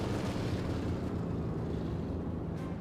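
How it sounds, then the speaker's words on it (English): An artillery barrage in the Company of Heroes 2 battle game, a heavy, continuous low roar of overlapping explosions that holds steady throughout, with no talking. "Another artillery barrage time on target there, very nice."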